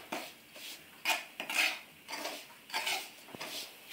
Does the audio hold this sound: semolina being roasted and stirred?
yes